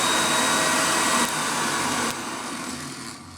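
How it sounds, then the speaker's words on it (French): A blender churns paper pulp with water, giving a loud, steady whirring motor drone for a few seconds that drops slightly in level twice before settling. "Maintenant, je remets le couvercle et c'est parti, on va pouvoir mixer tout ça."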